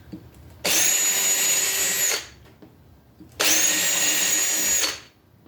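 A power drill with an 1/8 inch bit drills pilot holes in metal in two steady bursts of about one and a half seconds each, high-pitched and loud, with quiet gaps between.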